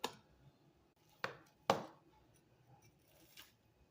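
A freshly cooked bread omelette is cut into pieces, giving a few sharp, faint cutting strokes with quiet pauses between them and no talk.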